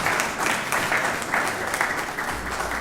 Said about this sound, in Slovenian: Lahko jim zaploskate, seveda, lahko zaploskate.